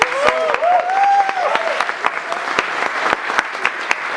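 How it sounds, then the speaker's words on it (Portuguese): A church congregation gives teenagers a round of applause, loud sustained clapping filling the room, with a voice calling out briefly at the start. "Aplausos, adolescentes."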